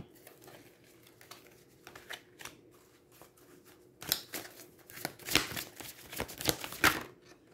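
Tarot cards being shuffled by hand, a soft papery riffling and patter that builds louder and denser in the second half, close with no talk.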